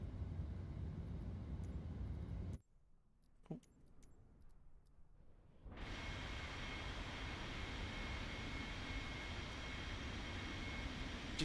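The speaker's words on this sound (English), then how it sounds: "So let's enjoy this aeroplane." An MD-11F freighter's engines roar in Microsoft Flight Simulator 2024 as a steady broadband drone. It drops abruptly to near silence with a faint tick, then surges back just as strong for the rest.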